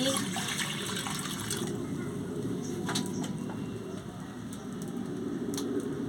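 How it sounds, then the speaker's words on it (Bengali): Water pours steadily into a wok set on a lit stove while vegetables wait to be simmered for a taro and spinach curry, a continuous close rushing splash lasting several seconds. "কড়াটা বসিয়ে দিচ্ছি জল দিয়ে দিচ্ছি"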